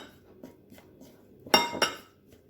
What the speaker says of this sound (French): Vous mélangez bien.